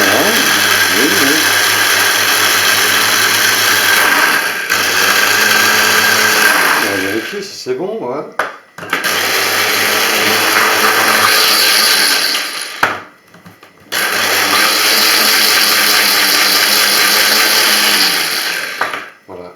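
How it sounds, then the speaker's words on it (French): An electric garlic chopper whirs loudly as it minces garlic cloves, running in three long steady bursts with short stops between them, while a person speaks French briefly near the end. "On va mettre un petit peu d'ail qu'on va presser tranquillement avec le pressoir"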